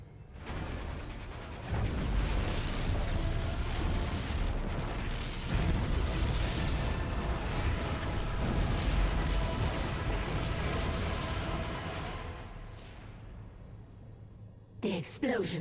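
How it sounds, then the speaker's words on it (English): Deep rumbling explosions from StarCraft II: Heart of the Swarm roll on in a loud, continuous barrage for most of the stretch, then fade before a brief final burst. "The explosions have stopped."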